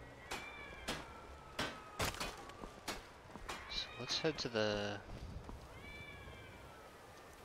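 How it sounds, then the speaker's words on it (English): A cat meows in the Skyrim video game, its cries rising over game sounds and a voice speaking nearby. "You hear that cat?"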